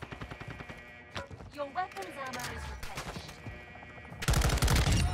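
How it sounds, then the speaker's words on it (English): Enemy gunfire in the shooter game Modern Warfare 2, scattered shots under a voice, then a loud close burst of rapid automatic fire at the end. "they're shooting at me."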